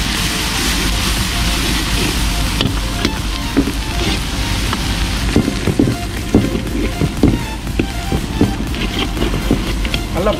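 Ginger garlic paste fries in a pan with softened onions and turmeric for vegetable fried rice, making a loud, continuous sizzle with small crackling bursts throughout.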